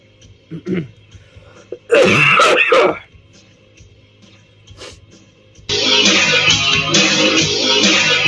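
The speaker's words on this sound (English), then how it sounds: "Cough is bad today." A harsh throat clearing and a cough burst out close to the mic in a radio studio, followed by quiet, then a steady broadband hiss of noise.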